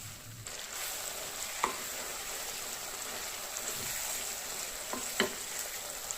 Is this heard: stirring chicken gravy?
yes